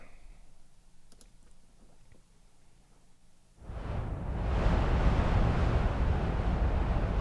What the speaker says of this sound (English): I want some sort of gust of wind